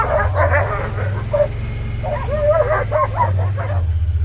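Excited, wound-up dog giving repeated yips, barks and whimpers close by, set against a steady low engine-like rumble running throughout.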